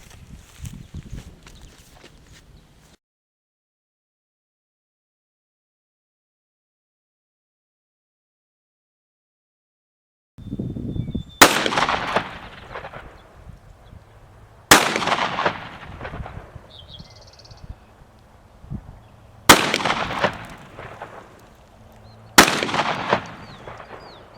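Remington 11-87 shotgun firing Brenneke slugs at a 50-yard range: after a quiet stretch, four loud, sharp blasts sound at regular intervals, each trailing off in a brief echo, with faint background activity between shots.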